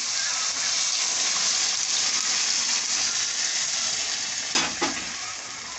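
Hot water goes into a pan of sizzling masala with dried fish, potato, drumstick and brinjal: a steady loud fry hiss, then a brief splashing gush near the end.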